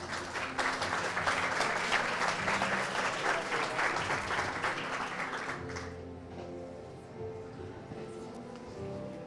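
A crowd at a gathering claps loudly and steadily for a speaker for about six seconds, then the applause thins to a quieter patter.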